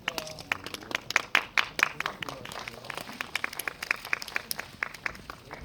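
An audience claps at a Korean film press screening and press conference, a dense patter of many hands that swells quickly and then thins out, filling the room at moderate distance.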